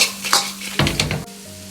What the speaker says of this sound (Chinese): 接着下入控干油的大虾，快速的翻炒几下，炒匀调料